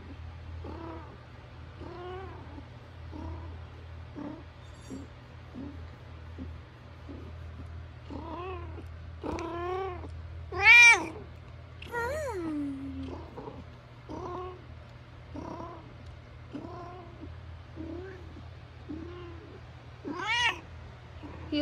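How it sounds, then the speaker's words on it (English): A talkative male cat meows repeatedly and close up, varied drawn-out calls with a few louder, sharper cries, over a steady low hum; no one speaks. "He loves to lay on one's arm, and he's the most talkative cat in the house."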